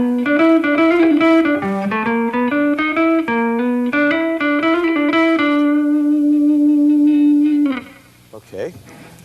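Electric guitar playing a swing line with passing tones, a run of distinct plucked notes in a bouncing rhythm ending on one long sustained note that rings out before quieter fragments.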